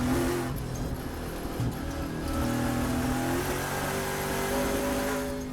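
Ford Mustang Trans Am race car at Thunderhill, engine roaring steadily at high revs with shifting pitch as the field runs close together, loud and continuous throughout.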